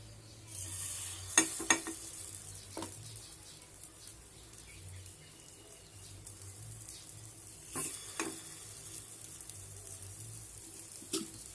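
Paniyaram batter fries quietly in oil in a pan, a soft continuous sizzle with a few sharp clicks and scrapes from utensils, and faint birdsong in the background.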